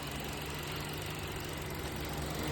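An air conditioner with its fan running while the compressor fails to start produces a steady, fairly faint mechanical hum and whir with a low drone underneath, unchanging for the whole stretch.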